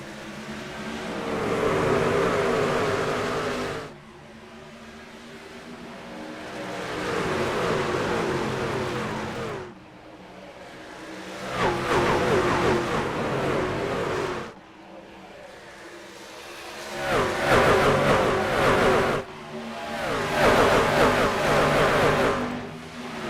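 Race trucks in the iRacing truck series at Homestead surge under green flag, engines revving in repeated swelling bursts separated by brief gear-change drops, loud and continuous.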